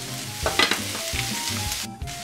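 A vegetable tomato sauce for vegetarian lasagna bubbles in a pot turned down to low heat, a steady close sizzle with soft pops and brief stirring or lid clatter.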